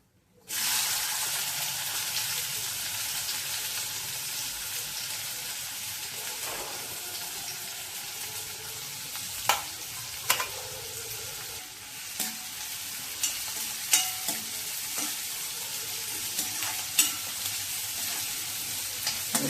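Onion sautés in hot oil with cumin seeds, a steady bright sizzle throughout, broken by occasional sharp clicks and scrapes from stirring, with no voices.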